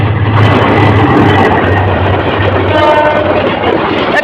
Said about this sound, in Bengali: ট্রেনটিকে ক্রস করে যাচ্ছে এই যে